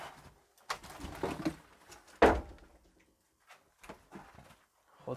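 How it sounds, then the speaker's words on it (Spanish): Pigeons inside an abandoned bullfighting palace break into bursts of wing flapping, one loud close flutter standing out amid scattered softer rustles and faint cooing, with no talking. "había pájaros"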